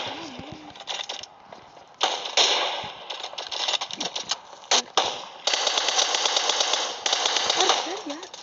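Gunfire from a weapon in a video game: rapid automatic bursts and single shots fire in uneven clusters, fairly close and loud, with a faint voice briefly heard at the start and end.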